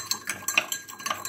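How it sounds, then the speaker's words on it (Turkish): Cauliflower pickle stirred in a bowl, a quick series of close, light clinks and scrapes of a utensil against the container in an uneven rhythm. "bir kabın içerisinde 1-2 dakika karıştırarak bunu yapıyorum"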